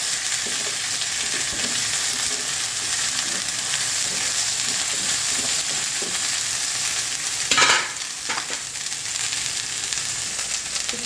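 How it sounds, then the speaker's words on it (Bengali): Water is poured into a hot frying pan of ginger, garlic and spices for a home-style soybean and potato curry, giving a loud, continuous hiss and sizzle with a brief splashy burst partway through. "পানি ঢেলে দিলাম"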